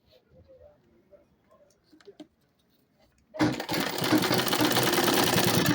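A sewing machine top stitches an Ankara fabric tote bag, starting abruptly after a few seconds of quiet handling noises and then running in a loud, fast, continuous mechanical whir close to the microphone.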